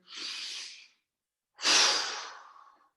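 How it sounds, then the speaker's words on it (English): Two slow, deep breaths during a qigong class, a soft airy inhale followed after a short pause by a longer, stronger exhale that fades out, close and alone. "another nice deep breath in"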